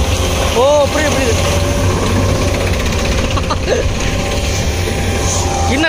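A tractor engine idles at a steady, loud, close rumble beside a sugarcane harvester, with a voice talking over it.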